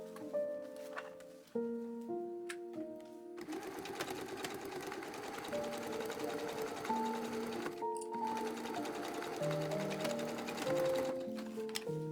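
A sewing machine stitches a pocket onto a ten-panel skirt, running in a fast, even whir with brief stops and restarts, close and clear, with soft music playing underneath.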